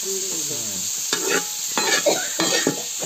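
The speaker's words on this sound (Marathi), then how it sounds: "आणि मस्त फ्राय करून घ्यायचे. चांगली भाजून द्यायची आहे का नाही चांगली परतायची" Raw wild karvanda berries are stirred and fried in a pan, with a steady hiss under repeated close scraping and rattling strokes, opening with a brief tonal squeak.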